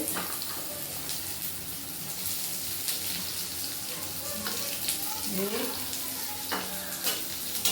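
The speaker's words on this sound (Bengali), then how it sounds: "পেঁয়াজটাকে একটু ভেজে নেবো" Chopped onions frying with cumin seeds in hot oil, a steady close sizzle with stirring scrapes and occasional spoon taps, alongside faint background noises from a village kitchen.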